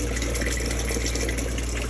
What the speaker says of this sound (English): So the hot, the cold is running currently